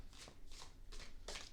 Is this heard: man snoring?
no